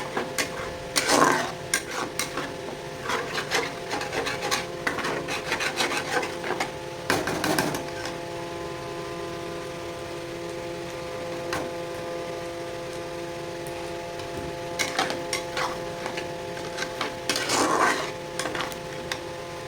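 Spice paste for prawn curry being stirred and fried in a pan with a utensil: steady sizzling runs throughout, broken by clustered scraping and clinking strokes, close and moderately loud.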